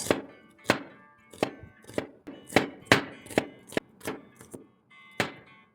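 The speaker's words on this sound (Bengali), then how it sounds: "আর সাথে কেটে নিচ্ছি পেঁয়াজ" A knife chops onion on a cutting board in about a dozen sharp, distinct thunks at an irregular pace. The strokes are close and clear, with quiet gaps between them.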